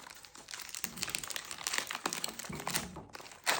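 A packet of elastic gauze from a medical trauma kit is ripped open close by, with quiet crinkling and tearing of the wrapper in short bursts.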